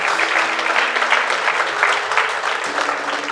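Strong congregational applause during a Spanish-language church service, a steady dense wash of clapping lasting the whole stretch with no pauses.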